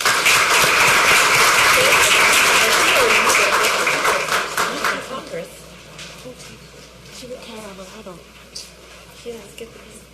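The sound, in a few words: audience applause for a middle school choir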